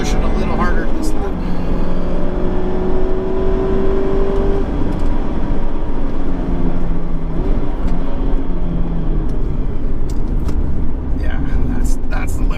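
A stock 2019-onward ND2 Mazda MX-5 Miata driven hard around a racetrack, its engine droning loud and steady from inside the cabin throughout, with a voice talking over it.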